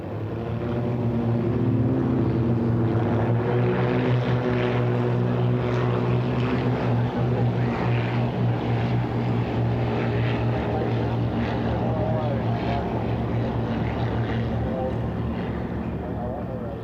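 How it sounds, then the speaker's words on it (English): Five Extra 300 aerobatic propeller aircraft run their engines while preparing for takeoff at an air show, giving a steady, moderately distant droning hum that stays continuous throughout. "But here are the 5 aircraft preparing for takeoff."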